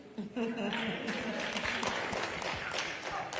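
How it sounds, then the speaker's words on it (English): An audience applauds a women's civil rights roundtable panel at Essence Festival 2022, a dense, steady patter of many hands clapping. A voice carries over the clapping. "give all these wonderful, phenomenal women a round of applause for this excellent panel"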